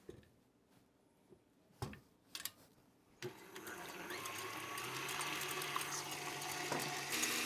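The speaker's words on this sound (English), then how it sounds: "we're going to whisk 2 eggs into the brown butter" A kitchen mixer whisks eggs into brown butter. After a quiet stretch with a few clicks and clatters it starts up and runs as a steady, close mechanical whir with a light rattle, growing slightly louder toward the end.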